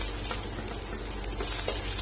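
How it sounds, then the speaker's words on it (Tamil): Onion and garlic sizzle and crackle steadily in a hot pan, with a few brief stirring scrapes over the constant frying hiss. "வெங்காயம் பூண்டு நல்லா செவக்க வறுபடணும், அது வரைக்கும் வதக்கிக்கலாம்."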